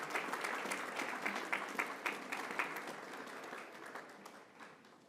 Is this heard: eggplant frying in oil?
no